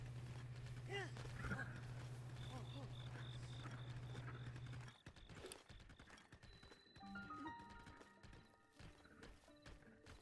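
A horse in the video game The Legend of Zelda: Breath of the Wild, with hoof clip-clops and a brief whinny mixed among game sounds and a sustained tone in the first half.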